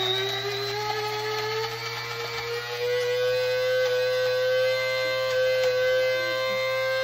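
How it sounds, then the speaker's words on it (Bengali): An electric spice grinder runs steadily as it grinds black cumin into a smooth paste. Its loud, continuous motor whine slowly shifts in pitch, and no voices are heard. "তো আমি ব্লেন্ডারে না করে সেটা গ্রাইন্ডারে করতেছি।"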